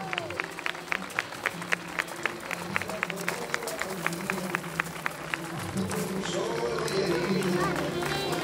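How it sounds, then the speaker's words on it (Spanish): Outdoor fair show audience in the castle moat at Marcilla: rhythmic, in-unison clapping with sharp regular beats, joined by crowd chatter and a voice, then merging into looser, fuller applause toward the end. "¡Fuerte el aplauso!"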